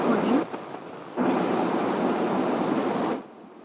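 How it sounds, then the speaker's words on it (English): Heavy rain pouring steadily as a dense broadband hiss, briefly dipping near the start and dropping away to a quieter wash just before the end; no speech over it. "That's heavy rain."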